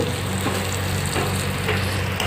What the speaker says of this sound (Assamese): অকণ ভালকৈ লৰাই দিছোঁ।